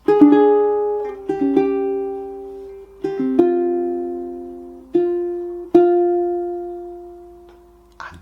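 Fingerstyle ukulele plays a slow jazzy phrase: five or six plucked chords, each left ringing and decaying with gentle vibrato, close and clear, with no voices.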